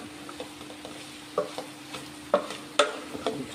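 Green chillies and cashews frying in a pan with a low steady sizzle, broken by scattered sharp pops and clinks of stirring, close and fairly quiet.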